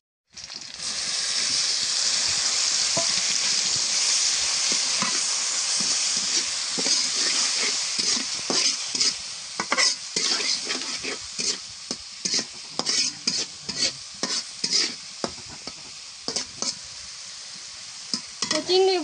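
Shrimp stir-frying in a pan, prepared for cooking with taro stolons and sponge gourd, giving a steady close sizzle and hiss broken by frequent scraping, clattering strokes of a spatula, with a faint voice near the end.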